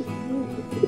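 Domestic pigeons coo in a short, soft burst, a low throaty warble close by that swells at the end with a slightly louder coo.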